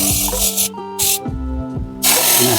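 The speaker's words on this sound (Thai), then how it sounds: "ผมก็ฉีดล้าง" Aerosol brake cleaner sprayed on the rear disc brake of a Toyota Camry ACV41 gives several loud, close hissing blasts separated by short pauses, over a faint mechanical hum.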